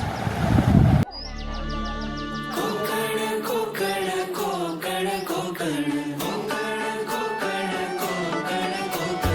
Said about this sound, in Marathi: कोकणातली सकाळ बघा, पक्ष्यांचा आवाज